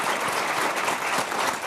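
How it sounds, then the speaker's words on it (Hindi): A brief burst of audience clapping at a political speech, steady and fairly loud, filling the whole moment with no voices on top. "तो एक बार अपने लिए ताली जरूर बजाइए"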